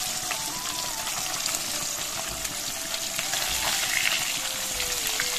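Fish sizzling and frying in a pan on a home kitchen stove, a steady broadband crackle and hiss that carries on without a break, close and fairly loud, with no talk over it.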